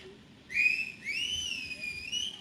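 Shrill, sustained audience whistling rises in two long bursts, wavering in pitch over a faint murmur of background noise.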